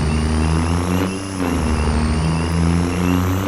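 A pickup truck engine in Farming Simulator 25 rumbles loud and steady, a deep droning idle with a slight dip in pitch near the one-second mark.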